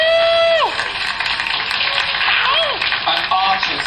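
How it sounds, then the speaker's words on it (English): A theatre audience applauds and cheers for an absent performer, a short burst of dense clapping with whoops and shouts layered on top, loud and close, lasting only a few seconds. "can we have a round of applause and a few cheers for Slava in absentia?"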